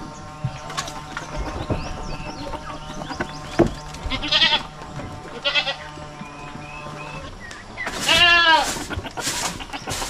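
Goats on a farm bleat in several wavering calls, one loud and close near the end, over mechanical clicking and a voice talking.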